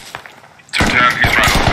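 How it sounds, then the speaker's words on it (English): Gunfire in a military shooter video game during a Russian attack: after a quiet moment, a loud burst of rapid automatic shots cracks out close by, with a voice faintly present. "I'm being shot over here."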